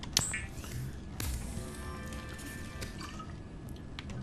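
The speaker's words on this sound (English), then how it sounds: "we can now convert our bladderfish into a bottle of water" In the Subnautica video game, a fabricator turns a bladderfish into a bottle of water, producing clicky, drippy, watery processing sounds with faint synthetic hums, steady and moderate in level, with no talking.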